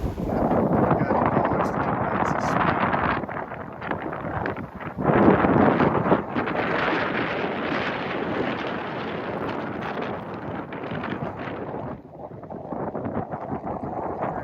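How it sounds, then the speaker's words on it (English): Wind rushes and buffets loudly aboard a Hallberg-Rassy 44 sailboat sailing near Ellös Lighthouse in Sweden, a dense continuous roar with gusty swells and water noise, and no clear speech. "You can feel the wind kicking up here."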